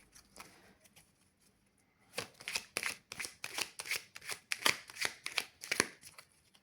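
An angel oracle card deck being shuffled, a run of soft rhythmic riffling flutters close by, faint at first then steady and louder, with no talk.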